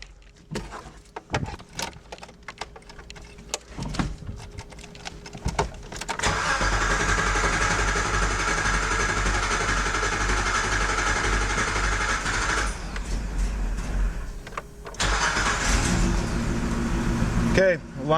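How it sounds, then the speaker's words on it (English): Nissan D21 Hardbody pickup engine cranking with clicks and short bursts, then catching at about six seconds and running loud and steady, dropping briefly near thirteen seconds before picking back up, with voices talking over it. "Let's turn the key over, see what we get."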